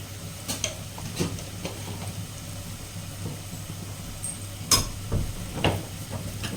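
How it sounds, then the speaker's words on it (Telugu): Beetroot fries in a pan with salt and turmeric: a soft, steady sizzle with a low hum beneath, broken by scattered clicks and scrapes as it is stirred, louder around the middle. "సాల్ట్, పసుపు వేసేసి చక్కగా బాగా వేగనిద్దాం"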